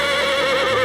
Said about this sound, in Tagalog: may lumitaw na kabayo